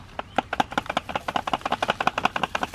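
Sawdust being sprinkled over rabbit manure compost, heard as a rapid, steady run of light, crisp taps and pats, close by and evenly paced for a few seconds, with no voices.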